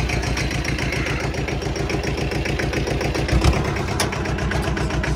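A tractor engine runs steadily while lifting a disc for a food plot, a loud, close, throbbing idle with a brief surge partway through.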